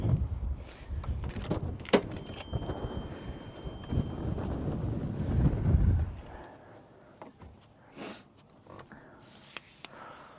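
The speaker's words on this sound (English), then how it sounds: "It is a bit windy, so bear with me." Gusty wind buffets the microphone beside a 1997 Toyota RAV4 for several seconds, then eases to quieter scattered knocks and faint rustles.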